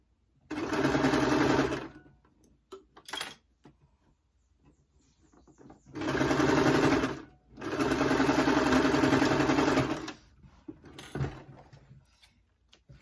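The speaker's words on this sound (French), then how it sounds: "Et là, on coud." A sewing machine stitches a bag lining in three bursts of fast, even whirring, one short and two longer, separated by quiet pauses with small clicks and handling noises, heard up close.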